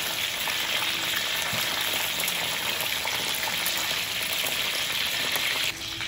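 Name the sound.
fried chicken frying in a pan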